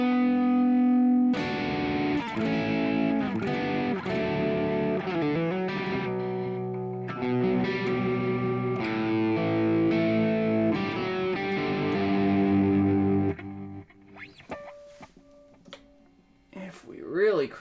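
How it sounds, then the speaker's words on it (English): Electric guitar playing a continuous pattern through a Chase Bliss tremolo pedal with delay turned up, notes echoing and pulsing in volume, ending in brief scattered quieter sounds. "I'm going to turn the delay up so you can really hear that."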